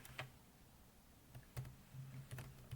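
Keyboard keys are tapped in a few sparse, quiet clicks and short bursts while Java code is typed during a lesson, with no voice.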